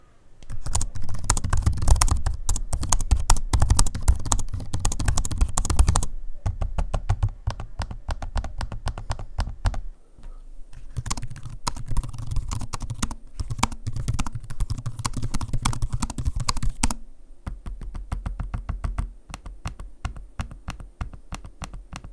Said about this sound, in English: to give you a quick audio sample of the keyboard and trackpad